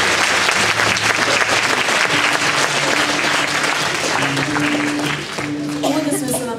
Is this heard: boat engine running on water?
no